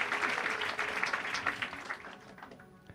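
A church wedding congregation claps together in a dense, steady wash of applause that gradually thins and fades toward the end, with no voices over it.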